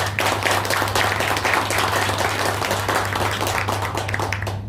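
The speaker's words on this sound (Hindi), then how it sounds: "यदि अच्छा लगा तो एक बार जोरदार तालियां हो जाए।" An audience at a health insurance talk claps loudly and steadily, a dense and continuous burst of many hands that fades out at the end.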